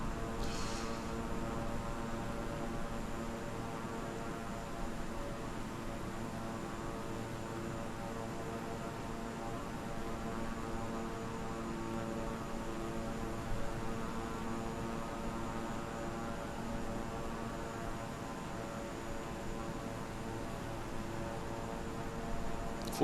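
Steady propeller-aircraft engine drone from a plane on a landing approach in Microsoft Flight Simulator 2020, a constant harmonic hum that holds level and unbroken throughout with no talk.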